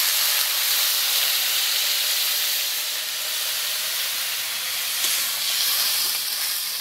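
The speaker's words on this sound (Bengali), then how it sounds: "ওর মধ্যে জল দিয়ে দেবো।" Water poured into a pan of fried potatoes sends up a loud, steady hiss of steam and sizzling, close and continuous for several seconds with no talk.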